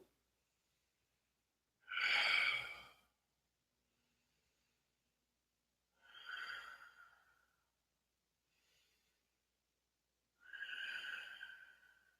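Slow ujjayi yoga breathing during a Forrest Yoga session, three long, soft breaths with a hissing throat quality, spaced several seconds apart in otherwise quiet surroundings, close to the microphone.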